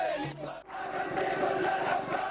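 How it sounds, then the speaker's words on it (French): Huge crowd protesting against Israel in Yemen's capital, a dense mass of voices chanting and shouting together in a loud, sustained roar. "c'est une foule immense qui manifeste contre Israël"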